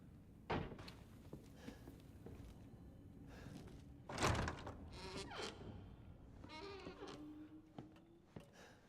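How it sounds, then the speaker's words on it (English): Doors in the horror video game Resident Evil 7 thud and slide shut in a few separate bursts, with one heavier thump near the middle, over a low droning ambience. "definitely heard the sound of doors"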